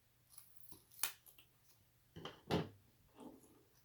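Scissors snip through a wood round snowman ornament piece, trimming the hat: a few sharp, close cuts spaced out over a few seconds in a quiet room.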